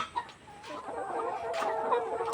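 Layer hens about 157 days old cluck and murmur continuously in a poultry shed, with a sharp squawk near the start and a steady busy chorus throughout.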